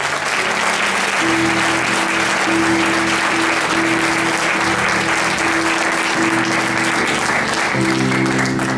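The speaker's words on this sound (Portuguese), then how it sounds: "Desocupe a mão e dê um aplauso forte a Jesus." A congregation at a church service in Ireland claps strongly, producing a loud, continuous wall of applause that stays even throughout, with sustained organ or keyboard tones underneath.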